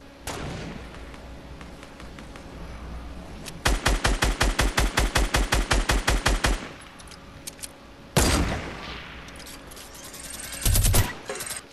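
Minigun fire in Fortnite: a rapid, loud burst of about a dozen evenly spaced shots for roughly three seconds, followed later by a couple of short, heavy blasts.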